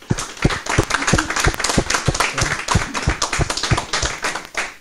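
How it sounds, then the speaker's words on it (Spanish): A small audience claps to close a colloquium on social participation in health, a few distinct hands giving close, crisp, separate claps that keep a loose steady rhythm throughout. "quiero que le brindemos un aplauso de cierre"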